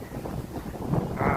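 Strong wind buffets the microphone with a constant low rumble that grows louder toward the end, with no other clear sounds, during a Honda CB150X motorcycle ride.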